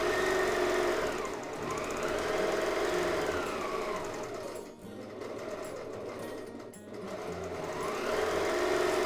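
A sewing machine runs steadily for free motion quilting, its fast needle rattle swelling and easing in speed with one brief dip, loud and close with no talking.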